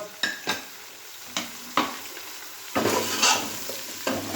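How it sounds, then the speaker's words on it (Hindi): Spices are fried with mutton in a pot, a low sizzle broken by several sharp scraping stirs of a spoon, close and fairly quiet, with no talking. "और इन सब मसालों की हम अच्छे से भुनाई कर लेंगे गोश्त में।"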